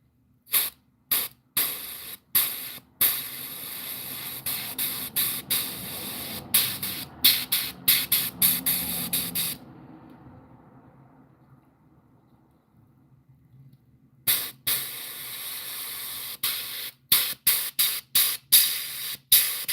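An airbrush sprays paint onto a striper/hybrid bass fishing lure in short, sharp hissing bursts that start and stop repeatedly. A long quiet gap in the middle separates two runs of close spraying.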